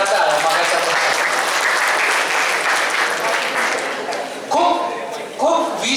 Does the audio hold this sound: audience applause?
yes